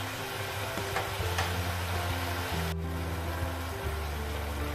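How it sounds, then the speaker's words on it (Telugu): Chicken frying in a pan as its released water cooks off gives a soft, steady sizzle and bubbling hiss throughout, fairly quiet and close, with no talking. "ఈ వాటర్ మొత్తం ఎవాపరేట్ అయ్యే వరకు ఫ్రై చేసుకుందాం"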